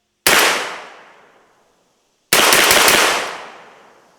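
Two loud, sharp shots from a Beretta 1301 shotgun fitted with a suppressor and firing 00 buckshot, about two seconds apart, each blast ringing out and fading over roughly a second.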